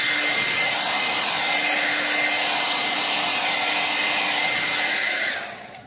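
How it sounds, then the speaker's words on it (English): A hair dryer blows loudly and continuously with a steady whirring roar, then cuts off and winds down at the end. "Is my trusty dusty blow dryer."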